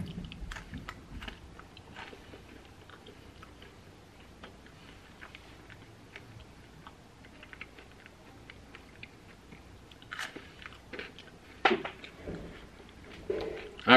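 A Reese's Big Cup with Reese's Puffs cereal inside being chewed close up, with soft irregular crunches and mouth noises throughout and a few sharper bites near the end.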